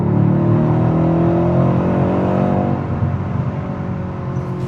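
A 510-horsepower car in sport plus mode accelerates hard, its engine roaring loud and steady from inside, then easing off toward the end.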